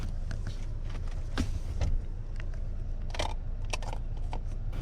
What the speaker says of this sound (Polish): Klapę bagażnika otwieramy elektrycznie Możemy to zrobić gestem, a możemy to też zrobić pilotem zdalnie, właśnie w ten sposób.